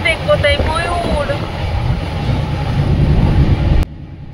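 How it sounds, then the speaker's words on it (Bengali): A train speeding along on a Hyderabad to Chikmagalur journey gives a loud, steady rumble and rushing wind noise close around, with a person talking over it at the start before the sound cuts off abruptly. "দুরন্ত গতিতে একদম ট্রেনটা ছুটে চলেছে"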